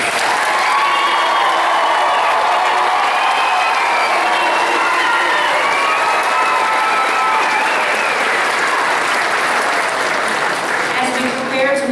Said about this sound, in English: like for us to give one more round of applause to our graduates.